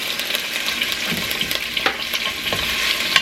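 Beef tips sear in a hot pot with a steady, dense sizzle and crackle, punctuated by scraping as the pieces are pushed around; close and continuous with no talking.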